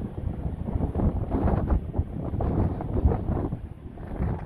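Steady wind buffets the microphone on the open upper deck of a cruise ship, Deck 17 of the Ruby Princess, a loud continuous roar with gusting swells and no voices.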